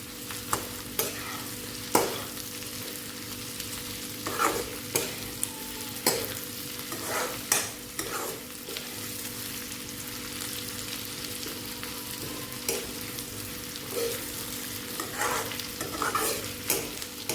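Bitter gourd and onion fry in a pan with a soft, steady sizzle, while a spoon scrapes and stirs in irregular clacks throughout, close but fairly quiet, no talking.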